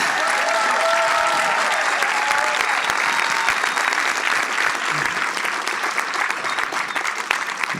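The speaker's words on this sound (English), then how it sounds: "clap it up already for him." Audience applause at a symposium, loud and dense, a continuous wash of clapping from many hands lasting the whole stretch with no voices standing out.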